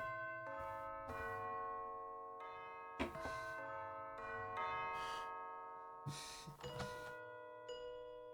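Bell tones in a musical composition ring out in a series of struck chimes with long sustained decays, several separate strikes spaced unevenly over a quiet background.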